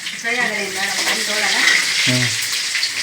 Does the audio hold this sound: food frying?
yes